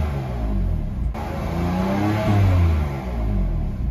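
A BMW M4 engine revs up while stationary, a steady close rumble swelling into a rising rev that peaks and eases back within a few seconds.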